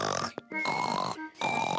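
A voice imitates a pig snoring in a children's puppet show, with short grunting snorts broken by pauses, close and fairly quiet.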